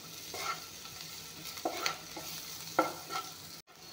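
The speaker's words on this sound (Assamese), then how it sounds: "এতিয়া ৰংগুড়াখিনি দি পিঁয়াজখিনি ভালকৈ ভাজি ল'ম" Onions fry with turmeric in a pan, giving a soft, steady sizzle under occasional scraping stirs of a spoon, fairly quiet and close, with no one speaking.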